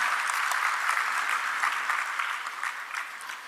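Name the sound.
audience applause at ceremony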